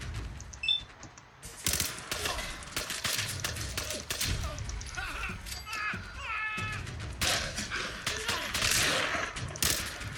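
Gunfire in the Fallout 4 video game: bursts of mechanical shots and ratcheting weapon clicks, loud and busy, with game sounds layered throughout.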